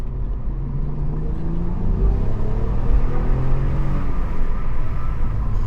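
Cadillac CT4-V Blackwing driving past on a backroad, a loud low engine rumble with rising and falling tone as it passes close by, no talking.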